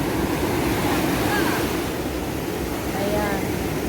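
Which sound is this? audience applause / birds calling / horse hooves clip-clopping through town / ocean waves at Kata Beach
ocean waves at Kata Beach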